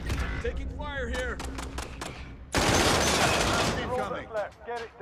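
A long burst of dense gunfire from a video game battle erupts midway and runs for a few seconds, with voices talking before and after it.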